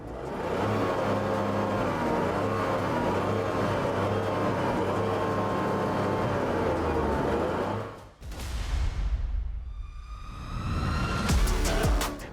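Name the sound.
Tata Altroz Racer dual-tip exhaust sound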